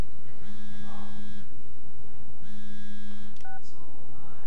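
Telephone keypad tones from the sci-fi horror game SOMA sound as two long, steady dialing beeps about two seconds apart, then a couple of short bleeps, clear over a low background hum.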